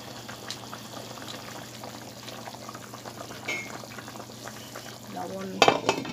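Chicken sizzles and bubbles steadily in a pan for a few seconds, then a burst of louder stirring and scraping clatter rises near the end.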